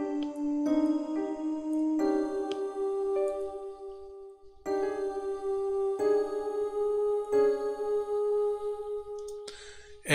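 Layered rhythm lines of cadence, backbone and scale syncopation play as a composed piece, sustained tonal notes with plucked attacks falling in a steady, syncopated pattern, clear and alone without talk.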